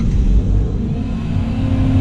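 Heavy truck engines idling and rumbling at a loading site as trucks back up, a steady loud low drone with mild revving throughout.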